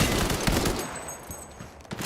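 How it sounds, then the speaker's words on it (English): Rapid bursts of gunfire crackle in Cyberpunk 2077, loud and close for the first second before thinning into scattered, more distant shots against a busy combat backdrop. "Shooting's all over the place."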